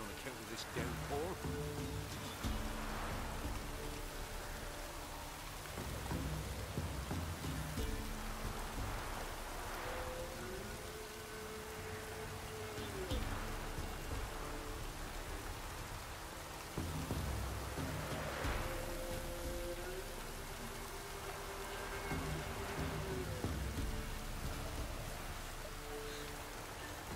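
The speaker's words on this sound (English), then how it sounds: "Midges will bite you on account of this downpour." Downpour rain in the video game The Witcher 3: Wild Hunt hisses as a steady, broad wash of falling drops. It is soft and continuous, with faint tonal game sounds drifting underneath at intervals.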